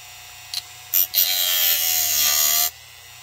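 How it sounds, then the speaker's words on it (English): A Dremel rotary tool cuts into a plastic model, giving a couple of brief high buzzing touches before a sustained, close grinding whine that stops abruptly. "this Dremel tool tends to kind of melt the plastic"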